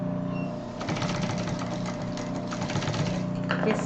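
A sewing machine stitches a cross body bag with a steady, rapid mechanical whir and needle chatter. It runs close and continuously for several seconds, with no talk over it.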